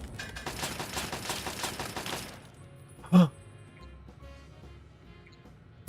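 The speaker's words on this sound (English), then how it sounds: "I think the turrets shot each other!" Turrets in Fallout 3 fire on each other in a dense, rapid burst of loud automatic gunfire lasting about two seconds, followed by a single sharp, heavy blast and then a quieter tail of low rumble and faint clatter.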